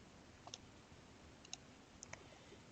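Faint, sparse computer mouse clicks on an Apply button, a few sharp isolated ticks over a quiet background hiss with no talk.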